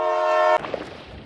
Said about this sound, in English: Am I hearing a fucking train?